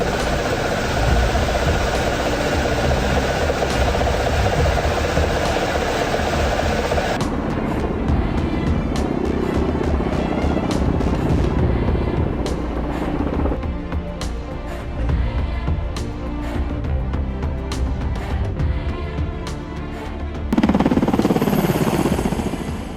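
A Kamov Ka-50-2 Alligator attack helicopter with a tandem seat cockpit, heard as a steady, loud engine and rotor drone throughout, with shifts in tone partway through and a swelling roar near the end.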